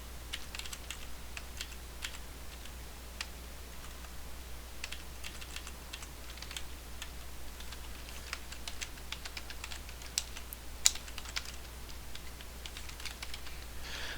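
Quiet, rapid keystrokes on a computer keyboard, irregular bursts of light clicks with one sharper tap, over a low steady electrical hum and no speech.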